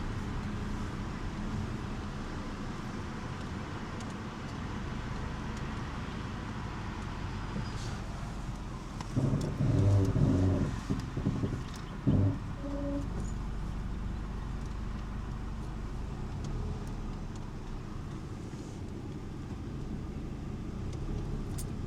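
A car idles and creeps along during a Florida driving test parking maneuver, a steady low engine hum throughout, with a short louder burst of engine and tonal sounds near the middle before settling back to a quiet drone.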